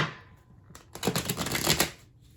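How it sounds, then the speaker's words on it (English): Tarot cards are riffled and shuffled up close in a quick crisp flurry of rapid papery flicks, after a softer slide at the start. "So let me do a quick shuffle of these here."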